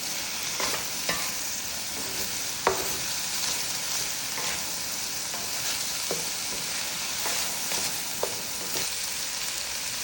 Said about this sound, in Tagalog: Mix ko lang siya hanggang lumambot yung onion.